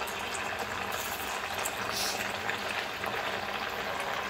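Sabudana vadas deep-fry in oil over a medium flame, a continuous bubbling hiss at moderate volume, steady and close with faint background sounds and no clear talk.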